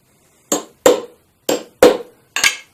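Five sharp hammer blows strike screws to mark a wooden cross piece, arriving in two quick pairs and a final single tap, close and distinct with short decays and quiet between.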